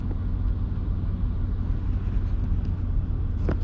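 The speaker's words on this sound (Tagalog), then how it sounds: "Napa-traffic, na-paralyze lahat, pati ang Highway 401 no" Stalled traffic on Highway 401 near Tilbury, Ontario, heard from inside a truck as a steady low engine and road rumble, loud and continuous, with no talking.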